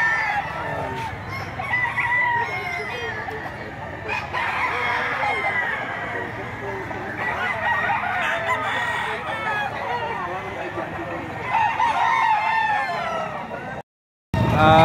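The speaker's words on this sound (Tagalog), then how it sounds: "Napakagandang manok nito." Several roosters crow repeatedly at a busy poultry auction market in Lipa, Philippines, with clucking and background chatter throughout; the din cuts out briefly near the end.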